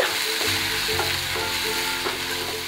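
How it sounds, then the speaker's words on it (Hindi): Frozen green peas roasting in a pan for kachori filling give a steady, close sizzle with soft stirring scrapes throughout, no voices. "मटर को भूनते हुए लगभग एक मिनट हो गया है"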